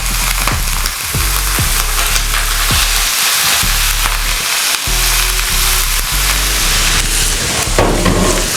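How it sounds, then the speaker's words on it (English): Ground turkey sizzles loudly in a hot skillet, a dense continuous crackle and hiss, with occasional scraping knocks as the meat is stirred. "It's already sizzling up."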